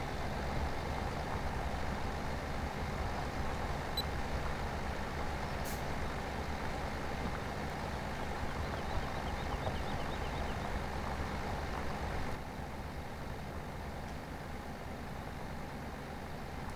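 A small tractor drags a plow across a field in Farming Simulator 17, its diesel engine droning steadily and close at a constant level, dropping slightly in loudness near the end.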